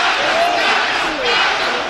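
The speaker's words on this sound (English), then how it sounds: "you can see the fans of Carter EFE chanting his name" A boxing crowd at a celebrity fight chants a fighter's name, a loud massed roar of voices rising and falling in rhythmic waves.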